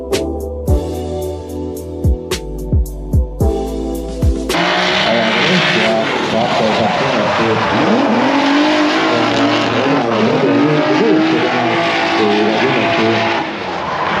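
A drift car makes a competition run at Jump for Drift 2025, with a series of sharp rev blips and bangs giving way to a sustained, screaming high-rev engine roar and squealing tires that stays loud and close throughout.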